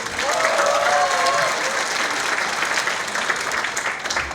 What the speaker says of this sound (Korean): 박수 치시는 기량을 크게 치세요.